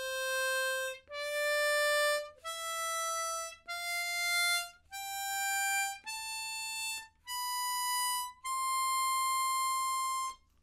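A C blues harp plays a rising single-note scale using the tongue-blocking technique. Eight clean, sustained tones step upward one at a time with short gaps between them. The playing is clear and close, with no voices.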